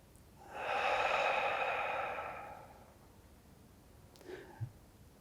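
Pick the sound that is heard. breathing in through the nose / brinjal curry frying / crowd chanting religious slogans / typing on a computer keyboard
breathing in through the nose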